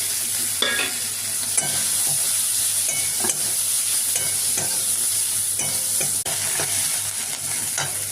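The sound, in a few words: chopped onion and crushed garlic frying in a pan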